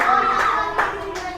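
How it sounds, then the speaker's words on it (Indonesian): A classroom of children claps briefly for a student group, a short burst of close hand claps with faint voices underneath. "Mana tepuk tangannya untuk kelompok"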